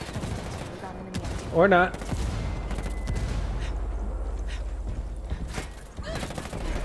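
Heavy gunfire in a shooter video game, a dense burst of shots and impacts with one louder crack near the start, rolling on under brief speech.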